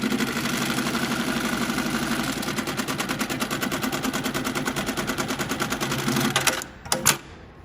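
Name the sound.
Mitsubishi programmable CNC sewing machine sewing a bar tack on webbing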